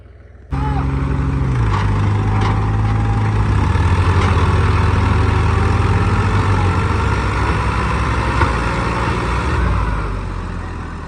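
A tractor engine, in a strength test between a 3630 and a 5911 tractor in a maize field, starts abruptly and runs loud and steady with a deep low-pitched roar, rising slightly as it revs, close by and dominating throughout.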